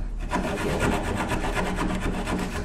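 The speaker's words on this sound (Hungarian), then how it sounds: "Látod, milyen ráspoly ez?" A coarse rasp files wood during a lock replacement, with fast, steady back-and-forth scraping strokes close up that keep going without pause.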